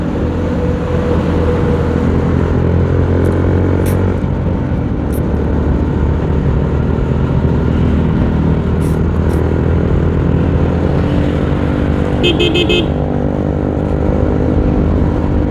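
Motorbikes rev through a morning traffic jam, a dense, loud, continuous engine drone with passing surges and a few sharp horn-like bursts, no talk over it.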